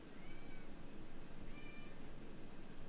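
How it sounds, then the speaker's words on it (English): Several cats meow rowdily, with faint, drawn-out yowls rising now and then above a steady, noisy hum, distant and partly buried. "Cats are getting rowdy."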